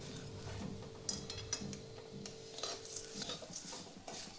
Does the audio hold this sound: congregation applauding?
no